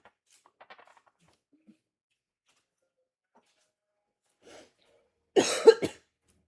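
A single burst of harsh coughing near the end breaks an otherwise quiet stretch, with a faint breathy sound shortly before it.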